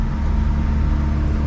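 A 1981 Ford Courier U-Haul mini truck engine idling with the choke on, a loud, steady low rumble, close and continuous.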